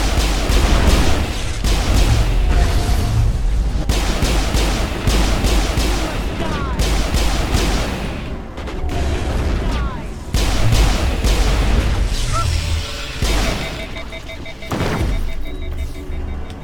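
Rapid gunfire and booming explosions in Mass Effect crack and thud densely in bursts, loud and close, with quieter gaps in between and voices shouting in places.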